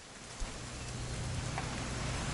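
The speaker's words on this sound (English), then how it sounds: "It's gonna rain the whole weekend, isn't it?" Steady rain falls in the video game What Remains of Edith Finch, a dense, even hiss with a faint low rumble and a small knock early on.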